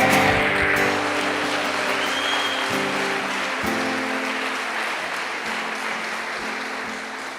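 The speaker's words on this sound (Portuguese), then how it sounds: "Aplauda o Rei." Dense, sustained applause from a large church congregation, steady and loud throughout, slowly thinning slightly toward the end.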